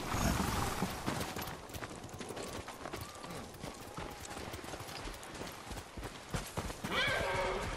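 Horses in the video game Ghost of Tsushima clip-clop with hooves on the ground throughout, with a neigh near the end, fairly close over a low ambient background with no clear talk.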